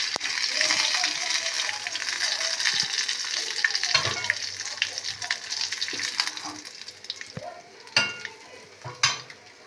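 Panch phoron spices crackle and sizzle steadily in hot oil, with occasional stirring scrapes and a couple of sharper pops near the end.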